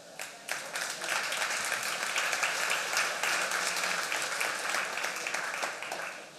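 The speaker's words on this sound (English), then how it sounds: "You got to give us a clap for that." A conference audience breaks into steady applause, many hands clapping together at a lively, even pace before it tapers off.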